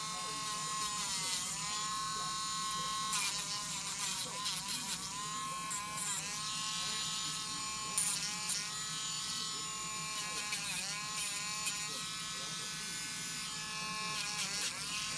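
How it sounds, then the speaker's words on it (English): A Dremel fitted with a drum sander smooths rough edges on handmade fork jewelry, a steady close electric whine that holds for the whole stretch with only slight shifts in pitch as it presses on the metal. "drums sander with the Dremel, and I'm just gonna take off any little rough edges"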